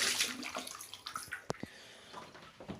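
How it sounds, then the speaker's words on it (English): Water poured out of an 11-liter bucket in a toilet room, a short splashing gush that fades into scattered drips and trickles, close and fairly quiet with no talking. "I'm going to pour the water away."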